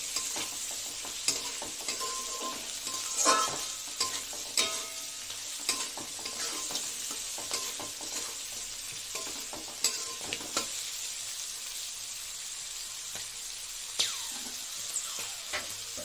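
Vegetables fry in a pan with salt and no turmeric, giving a steady bright sizzle broken by occasional stirring clinks and scrapes close by, with no talking.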